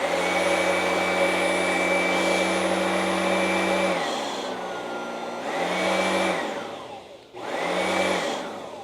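Oreck Magnesium LW1500RS upright vacuum cleaner running with a steady high motor whine, then cut off and restarted twice in short bursts, the pitch sliding down as it spins down each time.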